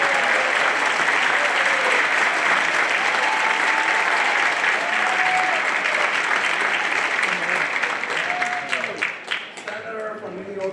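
A large audience at a community political gathering applauds a senator in a loud, sustained wash of clapping, with voices calling out through it and the applause starting to thin near the end.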